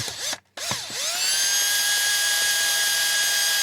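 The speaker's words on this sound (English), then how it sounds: "So now, I'm going to see if I can drill this without that moving on me." A power drill bores into a grade 8 metal bolt, spinning up after a brief stop into a loud, steady high whine held close and alone.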